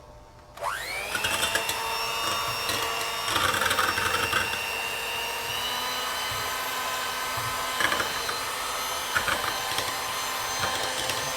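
An electric hand beater starts abruptly and runs steadily, whirring loudly with a high whine while whipping cream for a no-oven tiramisu cake, its pitch wavering slightly as the beaters move through the mix.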